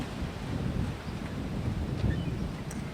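Wind gusts steadily across an open disc golf course near the parking lot, a dense broadband rush with rumble buffeting the microphone throughout.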